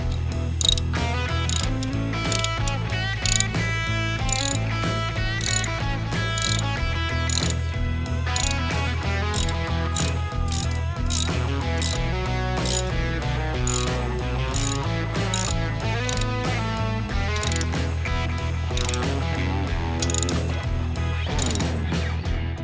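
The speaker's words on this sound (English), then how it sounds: "we can go ahead and start tightening them down." Steady ratcheting of a socket wrench tightening screws on a crash bar for a Harley-Davidson Softail, a rapid run of close, loud mechanical clicks against a constant low hum that continues without talk.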